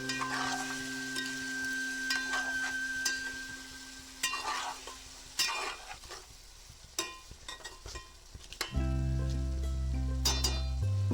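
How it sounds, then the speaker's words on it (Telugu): Chicken pieces stirred in hot oil for a gongura chicken curry, a close, steady sizzle broken by scraping and clinking of the spoon against the pan, with the frying growing louder and fuller near the end. "ఆయిల్లో మంచిగా ఫ్రై అయ్యేటట్టుగా కలుపుకుందాం."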